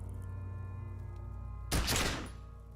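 A single loud gunshot blast from a gun in the Disco Elysium game bursts out over a steady low ambient soundtrack, then its echo fades over about a second.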